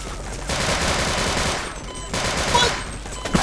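Sustained minigun fire in the Sven Co-op video game, a loud continuous roar of rapid shots that briefly cuts out and then resumes, with a few sharper cracks near the end.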